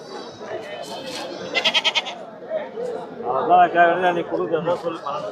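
Goats bleat repeatedly at a busy Pongal-season goat market in Ranipet, Tamil Nadu, several calls close by overlapping with the crowd's chatter and people talking throughout.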